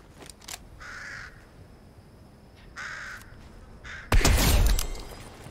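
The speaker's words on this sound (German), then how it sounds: "Du bist kein spezieller Vogel, ne? Du leuchtest nicht mal." Crow caws from a video game bird, three separate harsh calls at moderate distance, followed by a louder crash-like burst of sound at the end.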